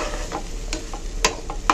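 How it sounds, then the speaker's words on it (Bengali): Rice frying in a pan for duck-meat khichuri, with a steady low sizzle and a few sharp scrapes of a spoon stirring it, close and on its own. "চালটা তো আস্তে আস্তে ভাজা হয়ে যাইতেছে"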